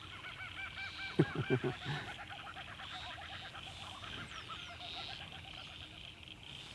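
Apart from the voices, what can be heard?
kookaburra calling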